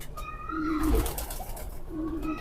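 Kasuri pigeons coo in soft, low rolling phrases close by, two coos separated by a brief rustle.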